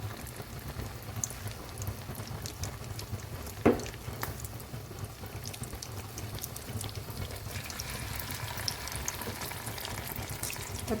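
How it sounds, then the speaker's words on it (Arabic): Egg-coated spinach and minced meat chaussons frying in hot oil, a steady soft sizzle and crackle that holds throughout, with one brief louder pop or clatter near the start. "نديرها نرمضها في البيض مليح مليح ونقليها"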